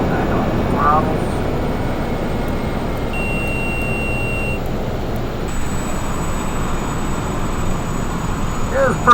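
Airplane engines in a flight simulator game throttle back during descent, giving a steady loud cockpit hum and rumble with occasional faint beeps and tones above it.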